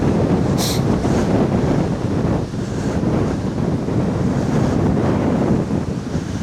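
Steady wind buffets a microphone outdoors beside a river, a continuous loud roar with gusty swells and no speech throughout.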